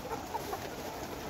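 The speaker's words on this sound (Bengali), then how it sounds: "মুরগিগুলো অনেক প্রাণবন্ত আছে।" Caged Novogen layer hens, 118 days old, give a few soft, brief clucks over a steady background hum of the shed.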